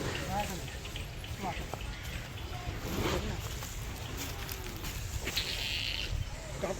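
A calf at a cattle market, bred for bullock-cart racing, calls out in a few short bleating cries amid loud talk and crowd noise.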